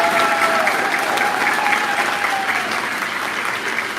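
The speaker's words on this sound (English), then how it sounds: "Let's give her a wonderful round of applause." A concert audience claps steadily in sustained, dense applause that holds loud and even before easing slightly toward the end.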